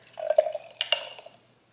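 Liquid poured at home in a kitchen into a container with a small opening, giving a short run of soft dripping and splashing, then a brief louder gush before trailing off into quiet.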